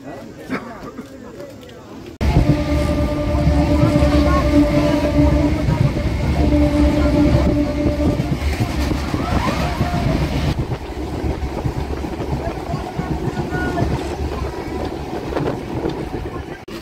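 Gopalnagar railway station platform as a train comes in from Bongaon, a loud steady rumble of the approaching train with a sustained whine and wind buffeting the microphone after a quieter start.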